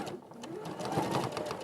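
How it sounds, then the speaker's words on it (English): A sewing machine stitches a quarter-inch seam while piecing quilt blocks, a steady close rapid whirring hum with the needle's fast rhythmic patter, over low background talk. "So I'm sewing a 1/4 inch seam."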